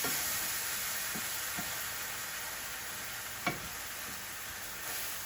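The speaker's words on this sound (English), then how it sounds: "So you just stir it kind of fast till you get it to the consistency you want it." Southern-style sausage gravy with milk is stirred briskly as it cooks in a pan, giving a steady low sizzle and hiss with a few soft scraping strokes and one sharper clink.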